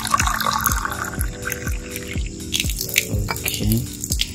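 Salt water is poured from a container into a glass during a water-quality test, a close, steady trickle with a string of repeated gurgling glugs as the glass fills.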